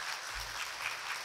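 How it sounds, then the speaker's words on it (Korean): A church congregation claps to welcome a new member at a Sunday service, a soft, distant wash of applause held evenly through a short moment. "우리 박수로 환영하겠습니다."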